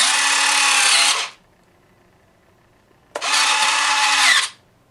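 Retractable landing gear on a Depron foam DC-9-14/15 model airliner whirs through two servo-driven cycles, each a steady buzzing motor run of about a second with a quiet pause between.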